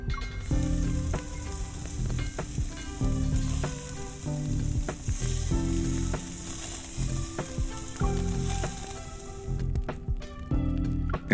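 Food sizzling as it heats in a video game kitchen, a continuous crackling fry with rhythmic stirring or shifting sounds throughout, fairly loud and without talk, stopping briefly near the end.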